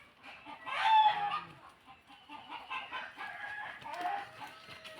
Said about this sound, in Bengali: মুরগিগুলো ভয়ে ভাগছে।